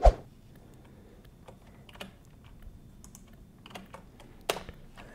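Keys on a computer keyboard are struck in short, sparse bursts as commands and a password are typed, each click close and fairly quiet with pauses between.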